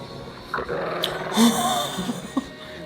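A dog growls in low, rumbling bursts with a few short yips and whimpers mixed in, close and fairly loud, with no one speaking.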